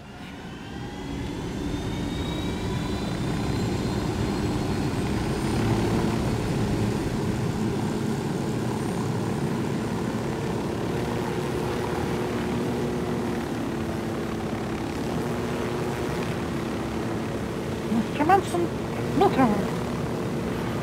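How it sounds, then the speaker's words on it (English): A helicopter flies in Ghost Recon Wildlands, a steady close engine and rotor drone with a whining tone that holds throughout, occasional brief noises near the end, and people talking over it. "this is a good helicopter to fight the cartel"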